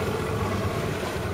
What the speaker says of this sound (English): As you can see, it's a little breezy today